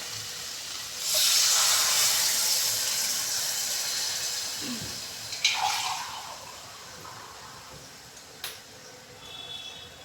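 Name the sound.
water poured into pan of dried fish curry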